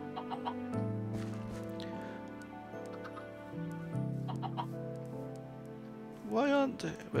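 Chickens cluck in a survival video game, with scattered clucks and brief bird calls over a steady layer of game music, plus a louder squawk near the end.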